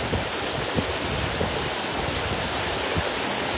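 Floodwater rushes in a swollen river beneath Tubod Bridge in Mahayahay, a loud, steady roar of broadband noise with no letup and no voices.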